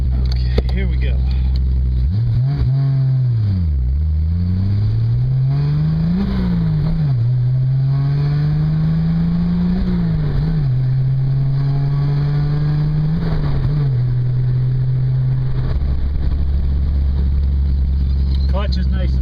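A 1968 Triumph Spitfire drives and accelerates, its engine note rising and dipping through gear changes as a loud, close drone with steady road and wind noise underneath.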